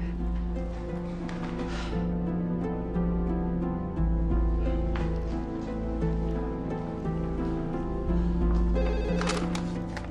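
A telephone rings on an outgoing call in an Indonesian drama scene, its repeating tone sounding steadily over a loud, continuous music score with no voices.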